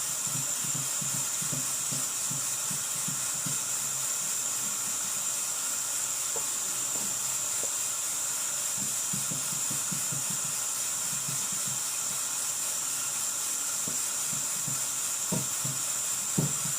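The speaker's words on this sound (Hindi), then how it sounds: "कुकर से जो भाप हो रहा है ना" A pressure cooker on a food shop stove hisses steam in a continuous loud rush, with faint low clatter and background noise beneath it.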